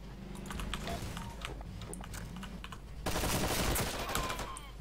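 Rapid turret gunfire in the Empires video game, aimed at a jeep, rattles in fast continuous bursts and grows louder and denser toward the end.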